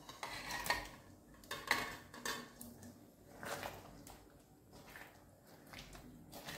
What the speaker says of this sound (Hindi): जो हमने पनीर कट किया है वो भी हम इसमें ऐड कर देते हैं।